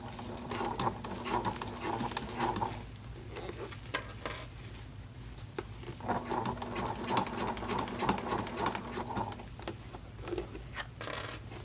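A sewing machine stitches over an already-sewn zipper on a bulky crossbody wallet, running in two bursts of steady mechanical whirring with a pause between, at moderate level and with no talk.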